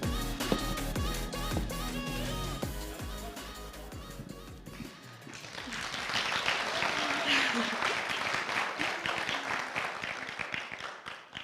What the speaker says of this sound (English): So this applause is to you guys